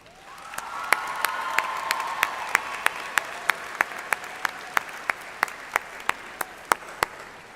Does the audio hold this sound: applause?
yes